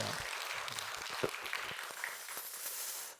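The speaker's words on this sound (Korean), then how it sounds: "박수 한번 해주셔요" Scattered applause from a church congregation at a Friday evening service, a steady soft patter of many hands lasting a few seconds at low volume before cutting off.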